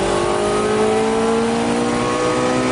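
A Honda Accord's red-top 2.2-liter VTEC engine revs hard toward its 8,800 RPM redline, a loud, continuous high-pitched wail with rising harmonics and no talk over it.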